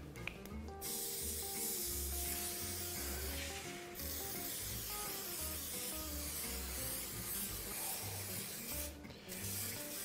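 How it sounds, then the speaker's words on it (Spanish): Release spray for baking hisses in a steady continuous jet onto a tray, close and fairly loud, with brief pauses in the spraying. "Spray desmoldante."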